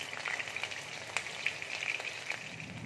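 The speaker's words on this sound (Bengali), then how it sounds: "এবার তেলের মধ্যে দেখো আমি রসুন কুচি দিয়ে দিচ্ছি।" Chopped garlic sizzling in hot oil for Maggi noodles, a steady close crackle with scattered sharp pops and spits, quiet and uninterrupted with no voices.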